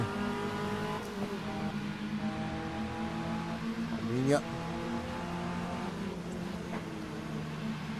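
A race car engine drones steadily in the Automobilista sim during a rolling start at Interlagos. A rising rev sweep comes around the middle, and someone talks over it throughout.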